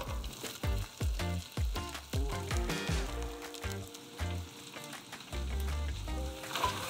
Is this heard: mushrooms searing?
yes